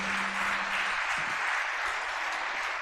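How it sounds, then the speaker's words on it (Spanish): Church congregation applauding, a steady broad wash of clapping that fills the whole stretch at moderate level, with a brief low tone fading out early on. "Si eso es verdad, dale un aplauso a Dios."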